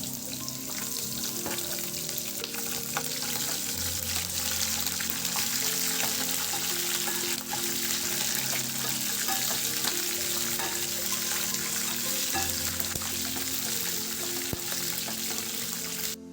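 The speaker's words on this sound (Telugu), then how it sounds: "3-4 ఎండుమిరపకాయలను, 4-5 పొడుగుగా కట్ చేసుకున్న పచ్చిమిరపకాయ ముక్కలు తీసుకొని బాగా ఫ్రై చేసుకోవాలి" Dried red chillies and slit green chillies fry in a pan with hot oil, a steady, dense sizzle that crackles continuously at close range with no talking.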